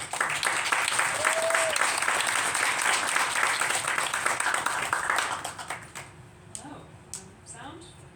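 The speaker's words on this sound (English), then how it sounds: "let's give a round of applause for her." An audience applauds at a literary reading event, with dense, steady clapping for several seconds that then tapers off to scattered claps as a voice begins speaking.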